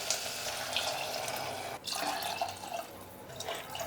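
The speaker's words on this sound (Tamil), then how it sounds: "இதுக்கப்புறம் தண்ணி ஊற்றிடலாங்க" Water is poured into a cooking pan for broken wheat rava kichadi, a quiet, continuous close-up splashing and trickling with no voices.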